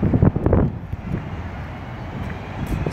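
Wind gusting outdoors at an amusement ride construction site, a steady low rumbling buffet on the microphone with a louder burst at the start, alone without talk.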